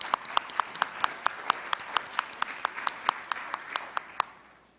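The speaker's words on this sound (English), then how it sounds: "let's give a round of applause for our panelists" A small group at an expert forum meeting in Seoul applauds the panelists, with sparse distinct claps at a fairly steady rhythm, moderately quiet and close, fading out at the end.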